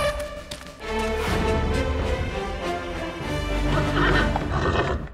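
Horses neighing and whinnying loudly in several overlapping calls, with hooves clip-clopping underneath, close and continuous throughout.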